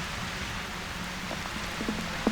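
Rain falling steadily at an outdoor karting track during a race meeting, a soft continuous hiss with a few brief louder taps near the end.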